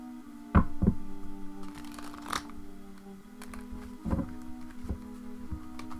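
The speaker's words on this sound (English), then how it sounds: "One thing about trimming your decks is that they become very difficult to shuffle, especially when they're this small." A small, trimmed tarot deck is shuffled by hand, giving a few sharp riffling bursts and soft card taps over a steady low background hum. There is no talking.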